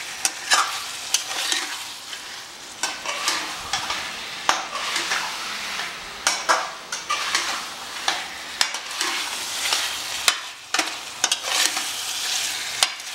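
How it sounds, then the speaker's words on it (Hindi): Chilli chicken stirred and fried with sauces in a pan, a steady sizzle broken by frequent scraping and clinking of the spatula against the pan. Close, moderately loud and continuous, with no voices. "देखिए आप कैसा मिक्सअप हो रहा है ये पूरा चिकन के अंदर सॉसेजेस कितने मिक्स हो रहे हैं"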